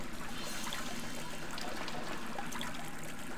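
Water trickling steadily in a flooded room in the video game Call of Cthulhu: Prisoner of Ice, a continuous soft dribbling stream with light splashy flecks, quiet and unbroken.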